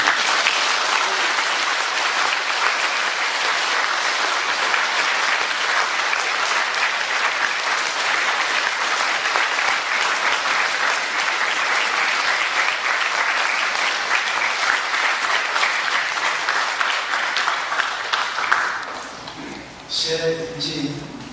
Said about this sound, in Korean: 따뜻한 박수를 부탁드립니다.